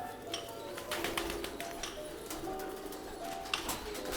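Pigeons coo softly in a colonel's loft, several low throaty calls repeating over a faint background hiss.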